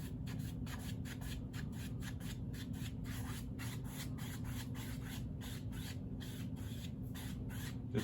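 An oil paint brush smooths paint across canvas in quick, repeated strokes, producing soft, close, rhythmic rubbing and swishing sounds over a low background hum, with no talk.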